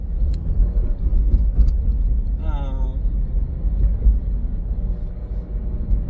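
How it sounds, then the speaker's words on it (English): Steady low rumble of busy road traffic heard from inside a car just before rush hour, continuous engine and road noise throughout with a brief higher whine partway through. "So this traffic is getting pretty busy, and I really have to concentrate on it."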